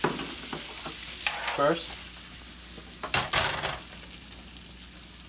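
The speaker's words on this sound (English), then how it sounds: "we begin to saute our onions" Onions sautéing in a pan with thyme leaves, a steady close sizzle broken by the scrape and clatter of stirring, with a brief word spoken over it.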